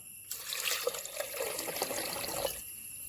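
Water pours in a steady stream for a couple of seconds, splashing and trickling into a metal pressure cooker, then stops.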